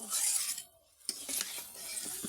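Pond tangra fish and eggplant being stirred and sautéed in a pan, with scraping, clinking utensil strokes against the pan and a steady frying hiss, close by with no talk.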